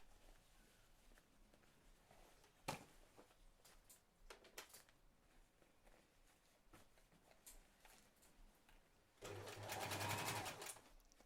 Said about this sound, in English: Now it's just a matter of sewing around until we get to that thick seam